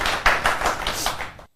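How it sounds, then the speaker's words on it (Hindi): An audience claps at an Independence Day poetry recital, a brief burst of close hand claps in a loose, uneven rhythm that quickly fades to silence. "रजनी अवनी, आप लोग जोरदार तालियां बजाकर उनका सम्मान करें।"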